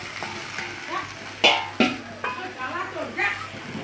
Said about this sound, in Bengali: সামান্য একটু জল দিয়ে একটু কষিয়ে নেব